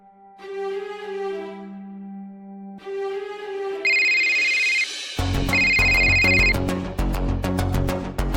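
A phone rings in repeated electronic bursts, first a two-part ringtone pattern, then a brighter, louder melodic ring tone carrying on without pause.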